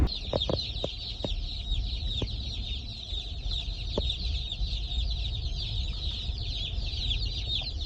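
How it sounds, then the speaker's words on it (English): A dense chorus of many small baby chickens peeping continuously, high-pitched and overlapping, with occasional clunks and rustling nearby. "It's a lot of chickens."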